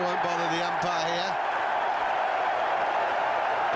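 Cricket crowd at the Gabba applauding and cheering a wicket during an Ashes Test, a steady broad roar of clapping that holds throughout, with a brief commentator's voice near the start.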